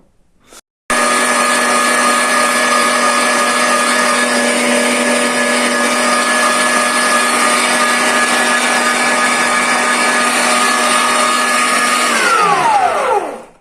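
An electric grinder minces rabbit meat, its motor starting abruptly and running as a steady, loud, unbroken hum with a strong tonal drone for about eleven seconds before switching off and winding down with a falling pitch. No one speaks over it.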